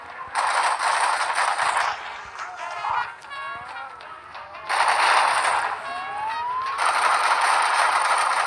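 Rapid video game gunfire rattles out in sustained bursts as the player shoots at police, with mechanical clatter and short gaps between volleys.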